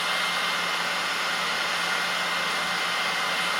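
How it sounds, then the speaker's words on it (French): A hair dryer blows continuously at close range, a steady loud airy whoosh with an even hum and no pauses, and no one talks. "On prend le séchoir."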